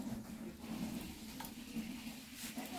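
Oil heating and frying in a pan for a cabbage and kontomire dish, a faint, steady close sizzle with no talking over it.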